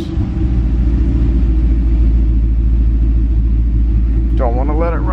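A 2007 Dodge Charger SRT-8 V8 with 154,634 miles and a damaged cooling system runs with a loud, steady, deep rumble. A voice comes in briefly near the end.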